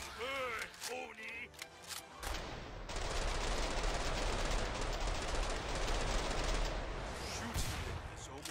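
Sustained automatic gunfire from the video game Killing Floor 2, on the Tragic Kingdom map at Hell on Earth difficulty, a dense loud burst of rapid shots running for several seconds after brief game voices.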